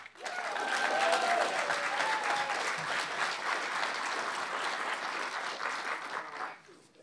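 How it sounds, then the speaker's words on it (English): An audience at a space-industry evening event breaks into applause, a full, sustained burst of many hands clapping that swells quickly, holds steady for several seconds and tapers off at the end. "And you've got one round of applause left for Howard Bloom"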